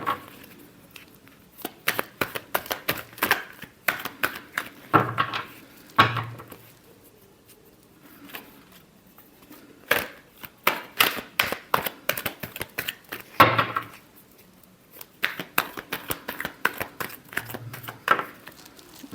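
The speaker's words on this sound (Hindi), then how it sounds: "Last shuffle." A deck of cards is shuffled by hand in a tarot reading, with rapid riffling bursts of crisp flutters and taps in repeated rounds separated by short pauses, close and fairly quiet.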